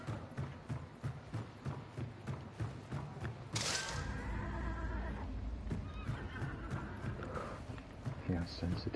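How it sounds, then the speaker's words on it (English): A horse in a video game lets out a loud neigh that rises and trails off, heard amid ongoing hoof thuds, game noise and someone talking over it. "The horse keeps going off because of us, not for anything else."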